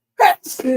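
A single sharp sneeze bursts out close by, followed immediately by a short spoken response.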